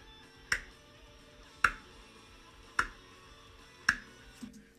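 Four sharp hand claps spaced about a second apart, each a crisp isolated snap in a quiet room, used as a sync marker.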